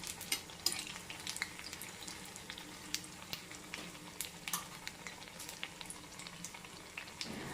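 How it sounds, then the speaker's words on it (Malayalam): Eggplant slices frying crisp in hot oil for a Kerala snack, a steady close sizzle with bright crackling pops scattered throughout, no voices. "നമ്മൾക്കിത് തിരിച്ചു മറിച്ചു ഇട്ട് കൊടുത്ത് നല്ല ക്രിസ്പി ആയിട്ട് വറുത്ത് പോരാം"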